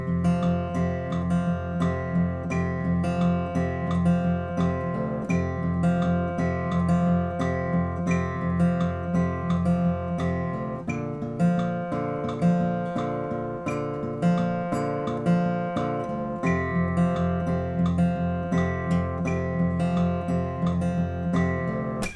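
Acoustic guitar plays the verse of a song at slowed speed, steady ringing strummed chords with rhythmic pick attacks running continuously, close and alone.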